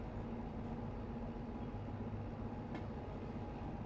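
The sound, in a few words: train rolling forward in the video game Derail Valley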